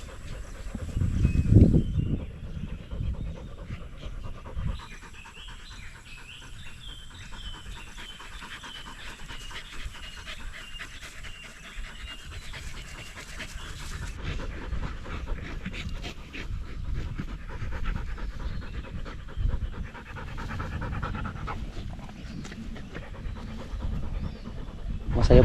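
Dogs pant steadily and rhythmically at close range while playing outside on a farm, with rustling and scuffling movement throughout and a louder burst near the start.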